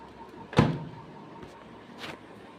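A microwave oven door shuts with one firm thud, followed by a fainter click or tap about a second and a half later.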